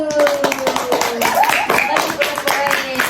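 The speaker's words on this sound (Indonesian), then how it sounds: "Tepuk tangan untuk kelompok 1." A group of students in a classroom quiz breaks into brisk, continuous clapping for a team, mixed with cheering voices and talk.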